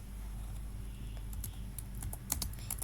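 Rapid keystrokes on a computer keyboard while HTML code is typed, soft and close, a steady patter of clicks over a low hum with a few sharper taps near the end.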